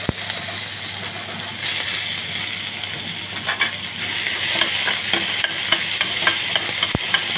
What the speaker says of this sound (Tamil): கடாயை வச்சு எண்ணெய் ஊற்றி எண்ணெய் காஞ்சதும் கடுகு பொரிஞ்சதும் வெங்காயம் போட்டுக்கோங்க.